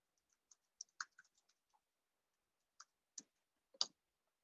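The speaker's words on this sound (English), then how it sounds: "this time I'll type in my password" Password being typed on a Mac keyboard: scattered light key clicks, a quick cluster, a pause, then a few more isolated presses, quiet and close with no talking.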